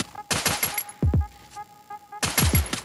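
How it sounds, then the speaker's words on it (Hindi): Bursts of automatic gunfire from a PUBG or Free Fire style mobile shooter, two sharp volleys separated by a quieter stretch with scattered single shots, loud and close. "फायरिंग हो रही है"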